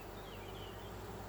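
A honeybee colony hums inside an open hive, a faint, steady buzzing drone that holds evenly throughout the short moment.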